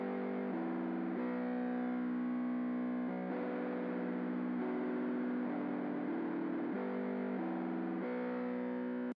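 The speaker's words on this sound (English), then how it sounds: "First thing I did is I used the Whirly V2 from the Arturia V series." Arturia V Whirly V2 synth plays a sustained, distorted chord pad with a swirling, chorus-like organ tone, shifting chords every second or so in a jazz beat, steady and loud with no voices.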